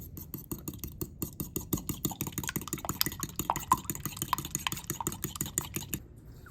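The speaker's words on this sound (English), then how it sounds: "we're gonna beat those eggs up with a fork" A fork beats eggs in a bowl, giving quick rapid clinking taps in a steady rhythm, close and fairly quiet, stopping briefly near the end.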